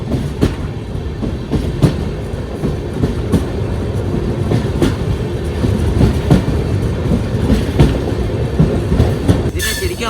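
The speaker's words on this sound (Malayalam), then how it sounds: "ഇതാണ് double stack freight, double stack container goods train എന്ന് പറയും." A long double-stack container goods train pulled by a single locomotive rolls past close by, with loud steady rumbling, rhythmic clickety-clack of wheels over rail joints and occasional squeals throughout.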